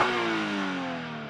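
A 2025 Toyota GR86 Hakone Edition engine revs hard, heard from outside the car, a loud sustained pull with harmonics sliding slightly downward as the revs fall over about a second.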